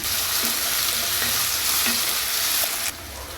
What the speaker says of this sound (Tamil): கொஞ்சம் உப்பு சேர்த்து வதக்கி விட்டுக்கலாம் தக்காளி வந்து கொஞ்சம் நல்லா வதங்கணும்